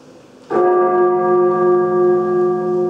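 A single church bell strike rings out loudly, its clear tone sustaining and slowly fading with a gentle pulsing shimmer.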